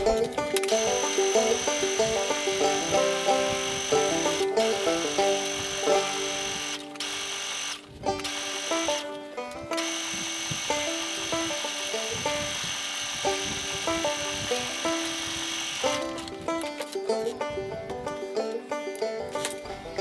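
A sewing machine runs long bursts of rapid stitching along the waistband of pro wrestling trunks, with a steady mechanical whir and clatter, brief pauses and restarts, close and fairly loud, with no talk.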